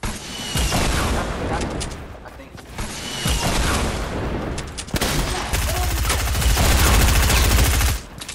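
Gunfire in a Fortnite match: loud, dense bursts of rapid shots with sharp cracks, broken by brief pauses and a distinct gap near the middle, then resuming heavier toward the end.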